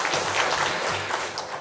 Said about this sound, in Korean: 효도관광을 통해서 교제와 섬김의 기쁨을 주신 하나님께 영광의 박수를 올려드리겠습니다.